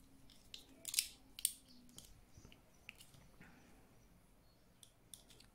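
Scissors squeezing a closure shut on a paper cord bag, giving faint, close crunching clicks and a few sharper snips spaced irregularly over quiet background, with no talking.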